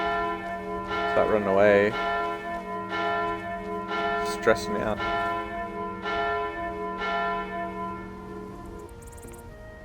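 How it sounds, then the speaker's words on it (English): A town alarm bell rings in the video game Skyrim, struck again and again in a steady rhythm with a long ringing tone between strikes, while someone talks over it. "Basically, if the town is attacked, the guard starts ringing the bell."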